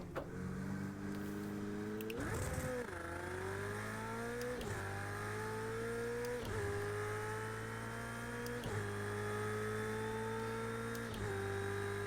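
Race car engines in Project Cars 2 rev and climb through repeated gear changes, a loud close whine that rises in pitch and then drops back at each shift, steady in rhythm.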